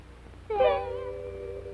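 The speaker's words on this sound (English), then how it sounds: "see the pretty, pretty, pretty kitten" A single kitten gives one clear, drawn-out meow against a quiet background, rising sharply then trailing off for about a second.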